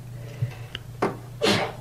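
A sneeze bursts out in a quiet studio during a radio interview, a sharp noisy blast near the end after a faint intake of breath, close to the microphone with a low hum underneath.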